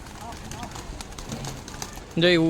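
Pigeons flying over a house at dusk, with a soft coo and faint bird sounds under quiet background, followed by a louder tonal voice-like call near the end; no clear talk over it.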